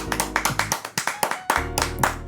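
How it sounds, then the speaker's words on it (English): A small group claps for a supporter being thanked, the round of applause coming in uneven bursts over a low background tone, fairly close. "as a matter of fact, round of applause"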